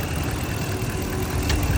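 A Ram 1500 pickup's 5.7-litre engine with over 200,000 miles idles steadily, a loud, even low rumble heard up close with no voices.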